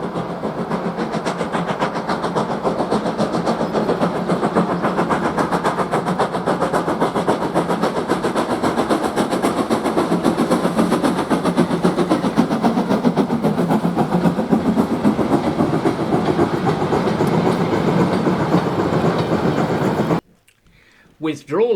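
An L&Y ironclad steam goods locomotive, number 52044, climbs away from Ingrow with a steady, loud, continuous chuffing and rumble that holds throughout before cutting off abruptly near the end.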